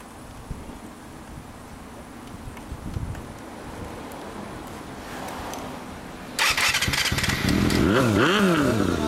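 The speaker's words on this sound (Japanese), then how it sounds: "オッケー、エンジンを聞かせてもらえるかな。" A 1998 Kawasaki Balius II ZR250 motorcycle fitted with a Tsukigi Racing exhaust starts after quiet background noise, then idles loudly and revs in rising and falling sweeps up close.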